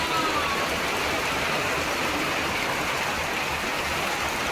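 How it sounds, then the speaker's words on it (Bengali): Heavy rain pours in a dense, steady hiss, close and fairly loud, with no voices and no break across the whole stretch. "আর এদিকে বৃষ্টি"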